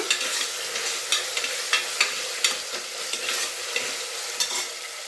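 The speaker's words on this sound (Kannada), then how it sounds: "ಹಾಗೆ 2 ಟೊಮೆಟೊ. ಇದು ಇಷ್ಟನ್ನು ಎಣ್ಣೆಯಲ್ಲಿ ಫ್ರೈ ಮಾಡ್ಕೊಂಬಿಡೋಣ." Two tomatoes frying in oil in a pan give off a steady hiss of sizzling, broken by regular spatula scrapes and stirring clicks. The sound is close and continuous and has no talk.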